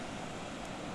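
Steady rushing of a cold mountain stream and waterfall at night near a vine suspension bridge in a Japanese valley, a continuous broadband roar with no voices.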